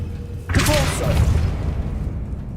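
The Depulso spell goes off in Hogwarts Legacy with a sudden loud boom and a whooshing blast that rolls on and fades over about two seconds.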